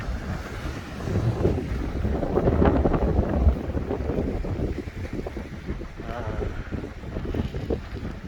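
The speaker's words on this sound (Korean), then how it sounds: "지금 이 바람이 굉장히 시원해요" Strong sea wind buffets the microphone on a coastal walk at Daewangam, a rough, gusting roar that swells and eases, loudest midway, with ocean wash underneath.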